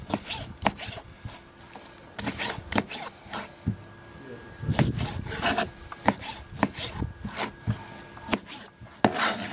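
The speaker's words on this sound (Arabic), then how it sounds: "بعد ما خلصنا تقطيع الفشة خلينا نقطع القلب." A knife cuts lamb heart on a wooden board, a run of irregular sharp chops and scraping rubs close by, fairly faint.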